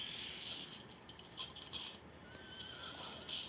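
Several horses neigh and whinny in a tense scene from the film Clash of the Titans, with shrill repeated cries over a steady rumbling, rattling background and no talk.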